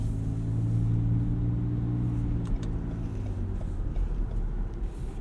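A 2018 Lexus RX 350 with its V6 and torque converter while driving, a steady low engine drone and road rumble throughout, loud and close, easing slightly partway through.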